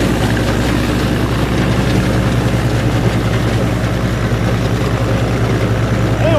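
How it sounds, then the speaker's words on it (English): A tractor hauling a Ford 917 flail chopper runs steadily while grinding stalks in a harvested field, producing a loud, continuous low engine drone with dense mechanical roar and no pauses. "I think it's a 917 Ford flail chopper."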